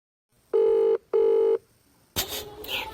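In a Tamil cartoon love story, two steady electronic telephone dialing beeps sound in quick succession, clean and loud, followed by a rougher burst of noise.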